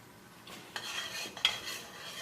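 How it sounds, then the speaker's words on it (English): A spoon stirs Puerto Rican carne guisada (beef stew with sofrito) in a pot, making a few short scraping strokes at low volume with a faint bubbling underneath. "just make sure you mix it"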